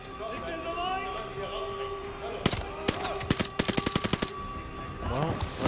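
Bursts of gunfire ring out in the Vanguard campaign, rapid machine-gun volleys mixed with single shots over game music and voices, growing denser toward the middle.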